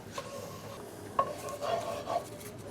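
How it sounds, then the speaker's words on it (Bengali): Cinnamon, cardamom and dried red chilies fried in a pan for a Ramadan dish, with a soft steady sizzle under intermittent scraping and clinking stirs that rise in the second half. "আমি একটু নাড়তে থাকি"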